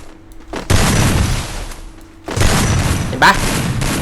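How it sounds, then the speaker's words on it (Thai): Heavy booming shotgun blasts in the Free Fire video game, two long loud bursts with a short lull between them and a brief bright metallic ping near the end. "ได้ยินเสียงแล้วน่าจะเป็นลูกซองนะที่เพื่อนเล่นนะครับ"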